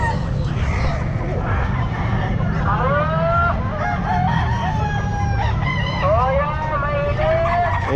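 Chickens and roosters at a pet market in Calumpit, repeated crowing calls rising over a constant crowd murmur and clucking, with vendors talking nearby.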